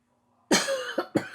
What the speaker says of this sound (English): I'm still trying to get rid of my cough.